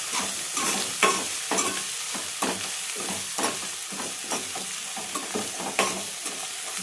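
Chicken curry base with turmeric being stirred in a hot pan, a steady sizzle under rhythmic spoon scrapes and clacks repeating about once or twice per second, close and fairly loud, with no talking.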